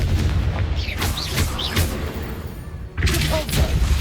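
Explosive spell blasts from a wizarding action video game, several booming thuds in quick succession with a sharp burst near the end, loud and close over a busy game soundscape.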